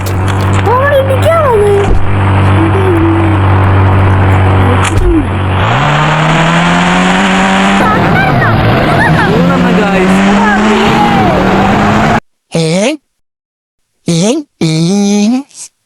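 A car in the video game Indian Bike, during a Jurassic Park mission, revs and accelerates with rising engine pitch and some tire squeal, loud and close, before breaking into short choppy bursts near the end.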